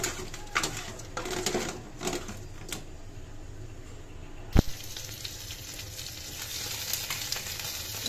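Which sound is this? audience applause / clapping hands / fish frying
fish frying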